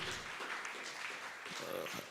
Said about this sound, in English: Keep on clapping, keep on clapping